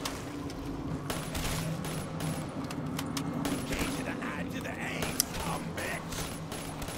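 Gunfire in Black Ops 3 Zombies on the remastered Kino der Toten map, with the Double Tap perk active. Repeated sharp shots crackle through a busy game mix while a player talks over them.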